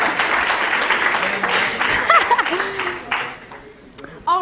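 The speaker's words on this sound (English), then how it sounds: "Everyone clap." Audience applause after a student presentation, a busy scatter of clapping mixed with cheers and laughter. Voices speak and whoop over it, and the clapping thins toward the end.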